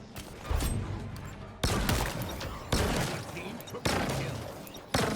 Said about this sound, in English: Boss is standing there while I shoot him.